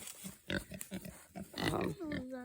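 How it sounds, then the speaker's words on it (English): A farm pig grunts and oinks in short bursts close by, mixed in with a person talking over it. "Yeah, we love our pigs."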